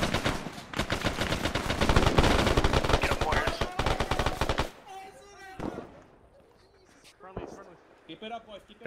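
Full-auto machine gun fire in the video game Arma 3 hammers in a fast, loud, continuous stream for several seconds, then cuts off, leaving scattered shots and a voice speaking.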